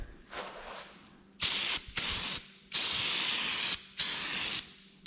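Spray paint can coating Wheatland tin on an Oliver 1950 tractor, four loud hissing bursts of varying length with short gaps, close and alone after a faint earlier hiss.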